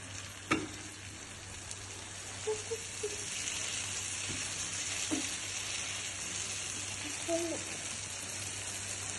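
Chilli chicken in tomato sauce being stirred in a pan: a soft steady sizzle with occasional scraping clicks of the spoon against the pan, close and fairly quiet.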